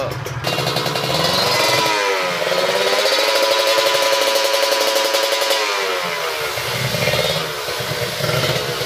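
A Kawasaki Ninja RR two-stroke motorcycle engine revs loudly up close, holding a high buzzing, crackling tone in sustained bursts that dip and climb again, with no talking.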